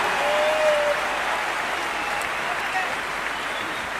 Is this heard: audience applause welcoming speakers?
yes